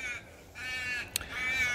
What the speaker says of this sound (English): the crows are busy today.